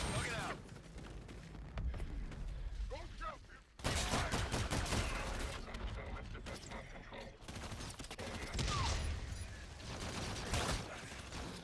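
Fire-support gunfire in the video game Call of Duty: Infinite Warfare: loud, continuous bursts and booming impacts fill the whole stretch, dense and layered, with game radio voices talking over the battle.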